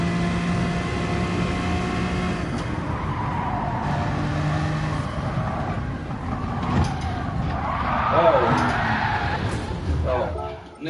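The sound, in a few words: race car nearly rolling in Gran Turismo 4 video game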